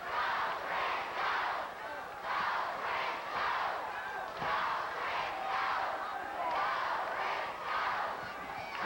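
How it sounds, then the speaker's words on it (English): Wrestling crowd at the Sportatorium chanting in a rhythmic, repeated two-beat pattern, a distant massed roar of voices swelling and falling steadily throughout. "And now the crowd here at the Venerable Sportatorium picks up the chant."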